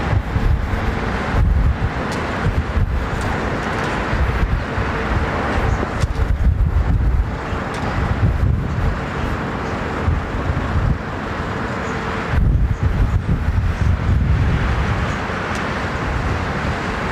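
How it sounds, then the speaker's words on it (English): Gusty wind buffets the microphone at London Heathrow Airport, a steady loud rumble with stronger surges throughout, and faint traffic or engine noise beneath. "Got a bit gusty now."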